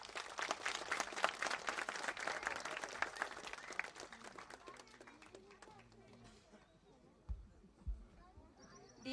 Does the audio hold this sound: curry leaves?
no